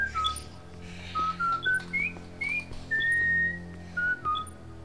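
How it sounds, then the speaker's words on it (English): A game character in Serious Sam 3: BFE whistles a short tune of rising and falling notes, clear and close over a low steady background hum. "He's whistling."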